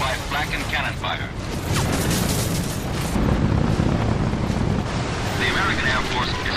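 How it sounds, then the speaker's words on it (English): World War II anti-aircraft flak and aircraft cannon fire rattle in dense, continuous bursts with rumbling booms, an archival wartime battle din under a narrator's voice. "riddled by flak and cannon fire"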